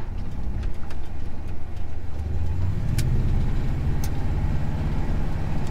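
A 1977 Chevy C10 pickup's engine runs steadily, then its pitch rises as the truck accelerates toward highway traffic, loud and close with a few faint clicks over the drone.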